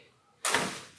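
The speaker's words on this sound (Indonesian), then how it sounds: "dengar suara pintu katana tuh kayak enak banget gitu" A 1998 Suzuki Katana GX car door shuts with a solid thud and a short broadband whoosh that fades quickly, close by.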